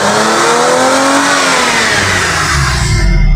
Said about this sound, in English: So the car is fine now. It's alright. It's firing well.